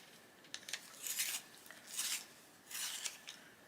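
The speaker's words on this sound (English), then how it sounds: "So go for the chrome oxide green, which I need to sharpen." A chrome oxide green colored pencil being sharpened, heard as three separate bursts of dry, scraping grinding with faint clicks between them, close and quiet, with no voices.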